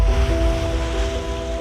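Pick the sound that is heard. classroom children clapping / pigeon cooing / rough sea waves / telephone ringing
rough sea waves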